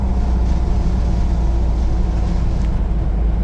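A Ford EFI 460 V8 in fourth gear around 2,000 RPM pulls up a hill, giving a deep, steady, loud cabin rumble with no pauses, heard alone.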